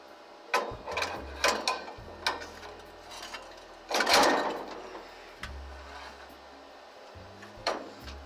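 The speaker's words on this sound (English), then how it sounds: "then we're just going to insert the pin into the bracket on the back of the machine with the notch facing out." A robot pin slides into a bracket on the back of an Evolution 2 machine, giving a few close metallic clicks, knocks and a ratcheting clatter with quiet pauses between, the loudest burst near the middle.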